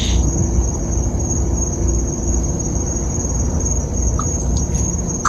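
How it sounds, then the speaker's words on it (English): Steady night chorus of crickets chirping continuously at close range, a dense unbroken trill with no voices. "just listen to crickets and fall asleep"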